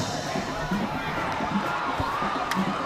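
Crowd at a high school football game between Shaler Area and Butler Area roaring and cheering: a dense, continuous wall of voices with scattered shouts and thumps, loud and sustained throughout.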